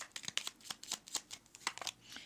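Tarot cards handled and drawn during a reading, giving a quick series of crisp, papery flicks and slides at close range that come in uneven bursts.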